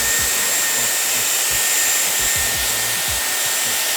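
Dyson Airwrap hair styler blowing air while styling short hair: a loud, steady, close-up rushing whoosh with a high whine, continuous and unbroken throughout.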